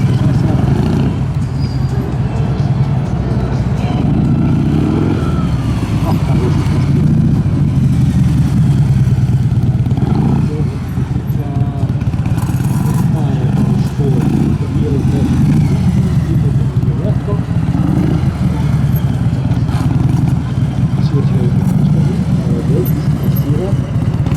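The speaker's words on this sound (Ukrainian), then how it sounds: "А Володимир їде успішно." A Harley-Davidson Fat Bob 114 motorcycle runs through a competition course, its engine a loud continuous rumble rising and falling with throttle, with a commentator talking over it throughout.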